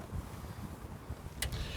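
Gusty wind blows outdoors around a parked Ford Transit camper van, a low rumbling buffet on the microphone with a brief sharp knock near the end.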